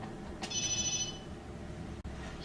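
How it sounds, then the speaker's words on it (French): A telephone rings once in the survival horror video game Obscure, a bright electronic trill lasting under a second over a low ambient drone, followed by a brief click. "Un téléphone qui sonne."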